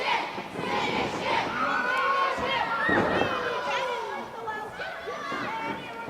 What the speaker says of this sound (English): The crowd calling for him to finish him